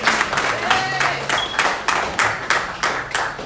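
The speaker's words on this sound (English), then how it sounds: "Let's give Denise and Brother Felix a round of applause" At a farewell celebration, an audience applauds in a venue: a dense wash of clapping with regular louder beats, as if some in the crowd clap in time.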